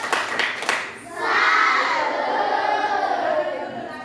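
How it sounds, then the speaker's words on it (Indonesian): A classroom group of children clapping in a salute, a few sharp claps at first and then a burst of voices cheering and chattering loudly together. "Kita kasih tepuk salut sama mereka"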